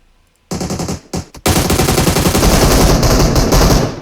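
Rapid automatic gunfire in a video game, loud and close, starting with a short burst, a brief pause, then a sustained stream of shots with no talking.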